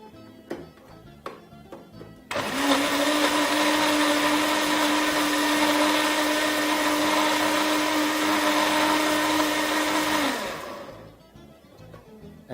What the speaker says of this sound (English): And now basically all that's left to do is just blitz this.